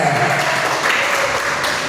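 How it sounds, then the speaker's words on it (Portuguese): A church congregation gives a strong round of applause during a service, a dense, even wash of clapping that fills the room steadily and loud for a couple of seconds, with no voices standing out. "Agora eu convido a igreja a dar a mais forte salva de palmas ao Senhor Jesus."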